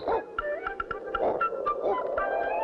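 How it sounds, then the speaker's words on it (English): A cartoon dog barks in short, repeated yips over a soundtrack, clear and close, several barks spread across a few seconds. "That's Otto barking."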